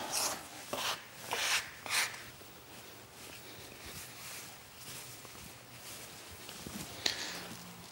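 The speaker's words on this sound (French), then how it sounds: "on a ce qu'on appelle phraser la pâte, c'est-à-dire bien finir de la mélanger pour que ça ne forme plus qu'une seule boule" Shortbread dough for a pomelo sablé is worked and pressed by hand on a hard surface, giving soft rasping, rubbing strokes, a few louder swipes early on and then quieter steady kneading.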